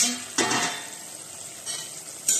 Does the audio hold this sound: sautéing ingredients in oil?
yes